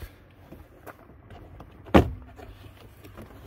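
A single sharp plastic pop as a door trim panel is pried off a 2013-2018 Hyundai Santa Fe, with faint handling clicks and rustle around it.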